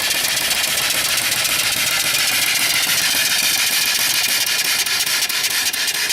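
A small steam engine fed by a steam boiler runs steadily, giving a loud, continuous mechanical chugging with no pauses or speech.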